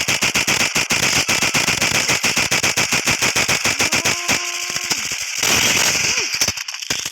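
Rapid machine gun fire in the Roblox game Flag Wars, a loud continuous stream of close shots rattling for most of the stretch, thinning near the end as brief tones cut through.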